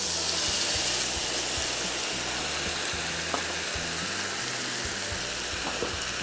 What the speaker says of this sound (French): quand c'est assez, ce qu'on fait, c'est qu'on déglace au vinaigre